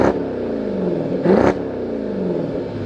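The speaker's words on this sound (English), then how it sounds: "let's listen to the exhaust." A 2026 Dodge Durango R/T 392 V8 exhaust idles with a deep rumble, then revs sharply once near the middle before settling back to a steady idle, loud and close with no talking.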